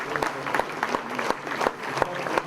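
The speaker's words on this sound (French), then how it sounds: "Donc on peut les applaudir bien fort" An audience at a trophy ceremony applauds, a steady wash of many hands clapping with sharper individual claps standing out throughout.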